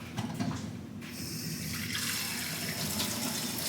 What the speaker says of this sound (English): I'm probably going to go in with a little bit of water